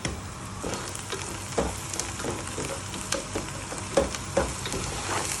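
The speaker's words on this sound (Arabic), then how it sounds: "طبعا راح نحمص البصل ونوديه للون الذهبي يذوب معانا، بس ذوبان بالسمن العربي الفاخر" Onions sizzle and fry in premium Arabic ghee in a pan, a steady crackling hiss broken by brief pops and stirring scrapes, close and moderately loud with no voices.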